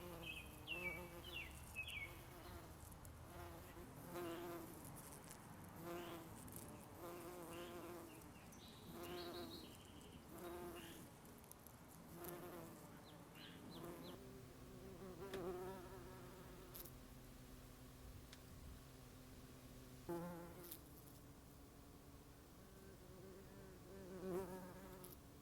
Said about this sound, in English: Here is a bumblebee collecting nectar and pollen from lupin flowers in the